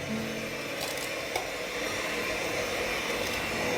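An electric mixer whirring steadily at low speed while beating eggs and sugar for a spinach cake batter, with a continuous motor drone and a faint bump partway through.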